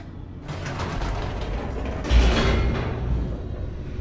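An elevator descends in The Stanley Parable, a steady mechanical rumble with creaking, ratcheting gear noise and a heavier clunk partway through, loud and continuous with no voices.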